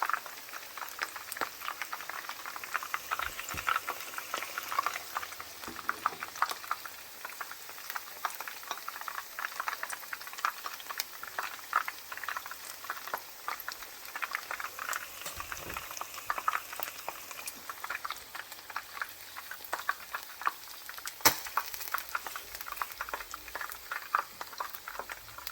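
Chicken pieces fry in hot oil, giving a quiet, continuous bubbling sizzle with scattered pops and crackles that runs steadily throughout with no voices.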